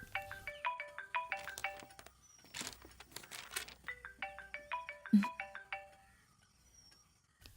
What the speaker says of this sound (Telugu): కార్తిక ఫోన్ రింగ్ అవుతుంది.